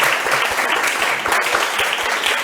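Forum audience applauding in a hall, dense steady clapping from many hands sustained throughout at moderate loudness, with no speech over it.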